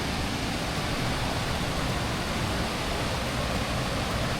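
A waterfall in the Porcupine Mountains of Michigan's Upper Peninsula gives off a steady, dense rushing roar that fills the whole stretch evenly, with no voices over it.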